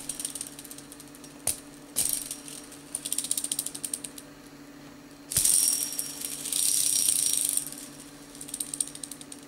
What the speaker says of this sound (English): the bike was sounding like a bag of marbles in a tumble dryer